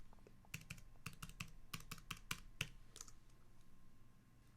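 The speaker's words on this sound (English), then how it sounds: "type in a new password" A password being typed on a computer keyboard: a quick run of about fifteen crisp, close key clicks in an irregular rhythm, fairly quiet, with no talking.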